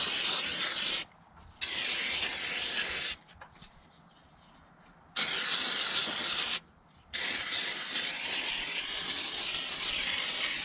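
Aerosol paint cans spraying onto a greasy 1969 Plymouth Fury Mopar 400 big-block engine: loud close hissing bursts of a few seconds each, broken by short pauses of near silence.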